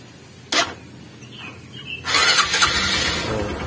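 A motorcycle engine is started with the front and brake lights removed, a short starter burst followed by the engine catching and idling roughly, close and fairly loud.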